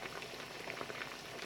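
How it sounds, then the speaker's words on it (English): Salted water with green beans boils in a pot, giving a soft, steady bubbling and fizzing that stays faint and even throughout. "So you need to boil the beans in some salted water"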